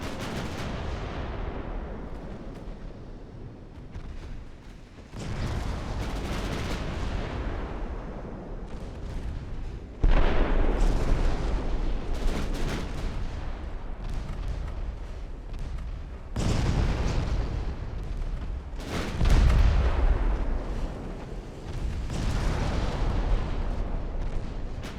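Naval gunfire and a torpedo launch in the warship strategy game Ultimate Admiral Dreadnoughts, with heavy booming salvos rolling one after another over a dense, continuous rumble, loud and sustained.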